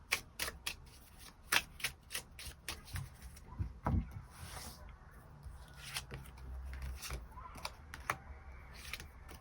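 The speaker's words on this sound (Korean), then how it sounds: "추가 카드 뽑아보도록 하겠습니다" Tarot cards are shuffled by hand close up, a quick irregular patter of sharp papery flicks and slides that stops and starts, with little else around it.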